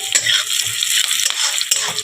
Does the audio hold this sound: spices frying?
yes